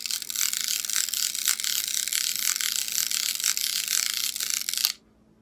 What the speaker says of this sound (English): Now I'll just take the back off to show you what it looks like.